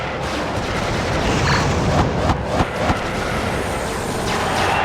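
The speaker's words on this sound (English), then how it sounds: "Test has the laser-guided rockets" Laser-guided rockets firing in the WWE Crush Hour vehicle combat game, a dense burst of booming blasts and crackling shots clustered in the middle, loud against steady background game noise.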